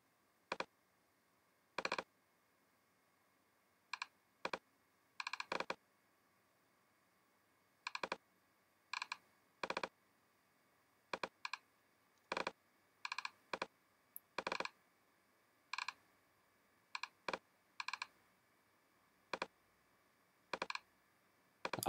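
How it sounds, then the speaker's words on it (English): Single keyboard keys pressed while navigating software tabs, each press a crisp, isolated click with pauses between, sometimes in quick pairs, close and quiet against near silence. "I can quickly navigate between the tabs by using the arrow keys on the keyboard."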